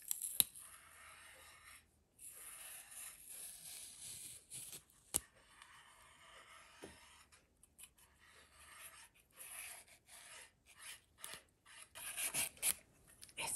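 Fresh knotweed stalks having their outer skin peeled off, making quiet, close rasping strips and scrapes in irregular bursts separated by short pauses, with no talking.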